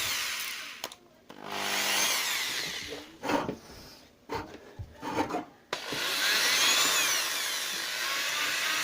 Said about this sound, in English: speed right down on the drill